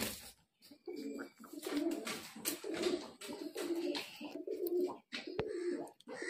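A Murshidabadi Giribaz pigeon coos in repeated low, throaty bursts with short gaps between, close and fairly clear.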